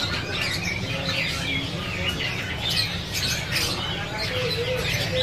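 Oriental magpie-robin (kacer), an adult bird, calls with harsh squawks and chirps among the busy, dense chatter of other caged birds in a bird shop, with faint voices in the background.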